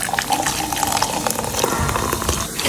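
Water from boiled noodles being poured off into a sink, a steady rushing, splashing stream running continuously and close by, with no talk over it.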